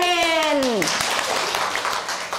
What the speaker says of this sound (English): Yeah, clap your hand.